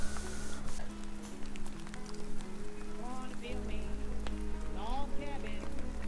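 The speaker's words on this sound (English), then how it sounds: "Dude, it's raining." Steady rain patters outdoors, a constant hiss with scattered drops, while birds chirp faintly and a low hum runs underneath.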